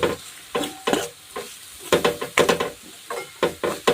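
Salt being mixed into a Vanjari-style khuda of dried red chillies in hot oil in a pan, with repeated close scraping strokes of the spoon over a faint sizzle, in an irregular rhythm and with no talking.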